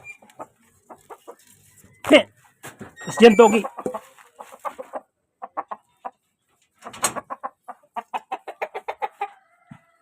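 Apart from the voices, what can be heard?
chickens clucking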